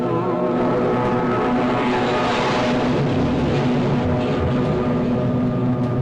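Spaceship lifting off in the video game No Man's Sky, a loud, sustained engine roar with tonal hums that swells and then holds steady without any talk.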